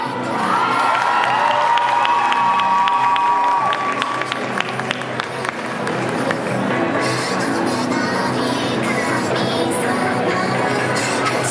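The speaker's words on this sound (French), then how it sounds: "On les applaudit, s'il vous plaît." A crowd cheers, whoops and claps loudly for participants of a Harajuku fashion parade, with children shouting amid sustained applause.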